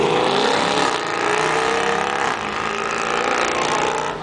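Car drifting at the Hockenheimring drift challenge, a loud continuous engine roar at high revs with tyre noise throughout, heard alone without talk.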